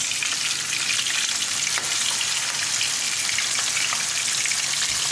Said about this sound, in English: You can see that the oil is popping. This is what happens while frying the fish.